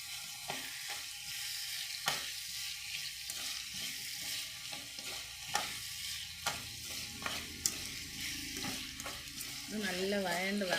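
Salted onions sauté in a pan for a beef dish, a soft, quiet sizzle broken by repeated sharp spatula clacks and scrapes as they are stirred.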